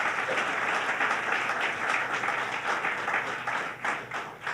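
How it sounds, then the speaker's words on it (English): A room full of guests applauds a congressman, dense and fairly loud clapping that swells and fluctuates before thinning slightly toward the close. "Let's give him a round of applause."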